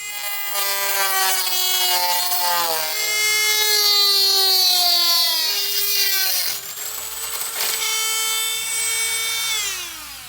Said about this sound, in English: let's change that Dremel disc and just cut this last bit out.